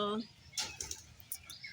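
Bursts of pigeon wings flapping on a rooftop, a few quick flutters in sequence, close by, with a brief voice at the start.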